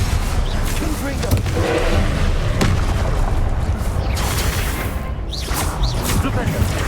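In Hogwarts Legacy, the Confringo fire blast spell goes off with booming explosive bursts and whooshes amid dense, continuous battle noise, with a spoken spell call over the top.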